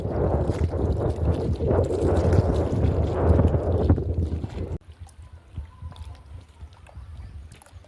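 River water slapping and gurgling against a jetty at a riverside ghat, a dense rushing wash with wind buffeting the microphone that drops abruptly to quieter lapping partway through.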